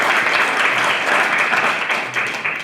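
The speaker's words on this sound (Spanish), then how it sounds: "Un aplauso para la unidad de transparencia" Steady, dense applause fills a conference hall, loud and close. Many hands clap in a continuous wash with no voices over it.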